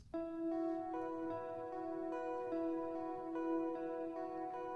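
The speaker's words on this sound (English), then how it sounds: "we're playing a very simple arpeggio" Guitar arpeggio in an indie R&B style, a broken chord plucked one note at a time in a slow, even pattern that repeats, clean and quiet over faint background hiss, no voice.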